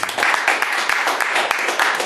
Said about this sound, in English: let's go a little round of applause